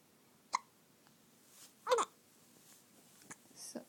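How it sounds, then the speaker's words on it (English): Three separate hiccups, sharp and fairly quiet, come at uneven gaps against a hushed room, with a faint breath or rustle near the end. "You want to say something but you get interrupted by your hiccups."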